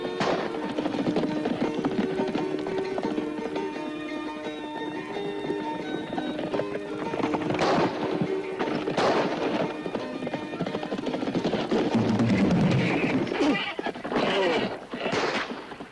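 Horses gallop in a 1972 western, a dense, fast clatter of hooves with a whinny, riding along under music and brief shouted voices.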